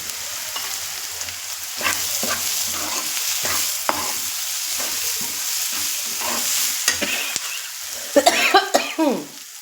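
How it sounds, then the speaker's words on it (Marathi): Onion sautéed in a pan sizzles steadily while repeated scraping strokes of stirring recur every second or so, and a brief cough sounds near the end. "आता कांदा मस्त परतून घ्यायचा"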